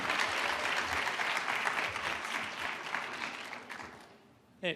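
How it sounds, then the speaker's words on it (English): Audience applause at a hackathon final demo event fills the room, steady and dense before tapering off toward the end, with a brief sharp burst at the close. "round of applause for Infusion."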